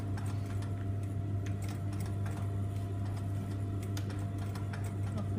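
A sewing machine stitches in the ditch around a quilt block with a steady motor hum and a fine rapid ticking of the needle, running continuously at close range with no talk.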